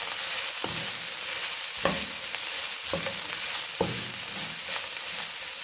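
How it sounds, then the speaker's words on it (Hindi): Cabbage and mixed vegetables stir-fried in a pan over a high flame give a steady, loud sizzle, broken by repeated scraping strokes of the spatula roughly once a second. "ये हाई फ्लेम पे हमने इनको वेजिटेबल को जो है वो थोड़ा सा फ्राई कर लिया।"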